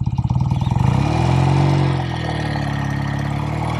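A vintage BSA Thunderbolt motorcycle engine thumps in a rapid pulsing beat, then revs up into a smooth steady drone as the bike rides on, loud and close.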